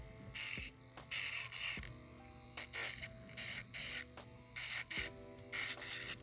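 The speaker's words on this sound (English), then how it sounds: "using this fine grit sanding band, and I'm just going to lightly remove the shine from the nails" Rhythmic bursts of an electric nail file with a fine-grit sanding band buffing the shine off nails, buzzing and rasping, close and steady, switching on and off in short repeated strokes with a constant motor hum beneath.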